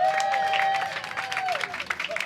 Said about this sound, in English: give them a round of applause up here